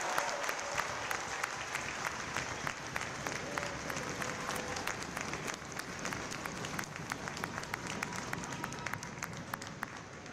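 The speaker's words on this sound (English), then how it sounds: "how about another round of applause for outstanding performance, our unit and individual award recipients" A large crowd at a U.S. Navy boot camp graduation ceremony applauds continuously, a distant, even wash of many hands with sharper individual claps popping through, faint overall.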